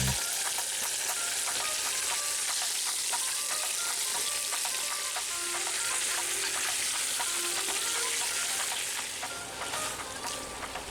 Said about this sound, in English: we add our lamb pieces and begin searing them on all sides